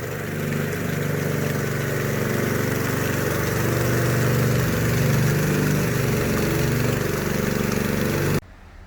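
A power trowel engine runs steadily while finishing a concrete floor, a loud, close, continuous droning hum that cuts off sharply near the end.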